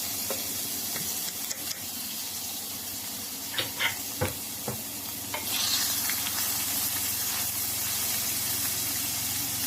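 Onion sautéing in a pan for a chicken liver dish makes a continuous sizzle, broken by several scraping stirs near the middle and then a louder burst of hiss. No one speaks.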